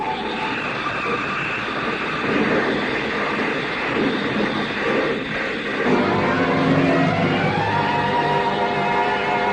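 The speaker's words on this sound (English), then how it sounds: "The car skidded on gravel and slid sideways toward the cliff." A car skids across gravel and slides sideways in an old radio detective drama, a continuous loud rumbling scrape with engine noise, building toward a heavier surge near the end, with no voices.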